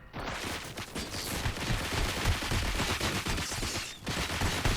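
Dense automatic gunfire in the video game RoboCop: Rogue City, loud and continuous with overlapping shots and a brief pause near the end.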